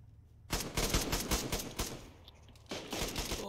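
Rapid bursts of gunfire in the survival game DayZ during a PvP fight on an Xbox server, several loud close shots in quick succession, a short pause, then another volley with no voices.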